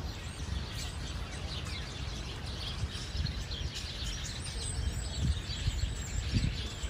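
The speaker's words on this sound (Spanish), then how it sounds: "Miren cuánto pajarito hay en ese árbol. ¿Sí escuchan todo el ruido?" Many small birds chirp together in a street tree in the evening. Their dense, continuous, fairly loud chatter sits over a low background rumble, with no talking.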